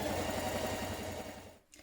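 A sewing machine runs a steady line of ease stitching along the top of a garment sleeve, a close, continuous whirring hum that stops abruptly near the end.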